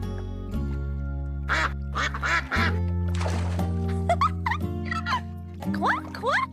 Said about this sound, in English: Look, Henry, ducks!